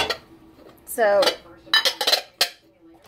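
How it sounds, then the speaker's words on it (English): Corelle pans and dishes clink and clatter as they are handled nearby, in a few sharp knocks and rattles with a brief spoken word. "I just realized I've got two of these of the Corel pans"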